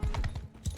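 Horse hooves clop in Mount and Blade Bannerlord during a cavalry battle, a quick close rhythmic run of thudding hoofbeats.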